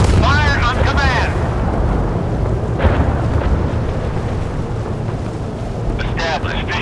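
Naval guns boom in the warship game Force of Warships, with a heavy blast rumbling across the scene, whistling shell sounds at the start and end, and a voice speaking over the loud engine and sea noise.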